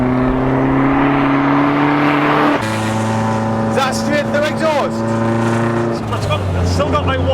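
A homemade Vauxhall Nova GTE with a 2.0 turbo engine and straight-through exhaust with one silencer, idling loudly up close, its deep drone dropping pitch in steps while people talk over it.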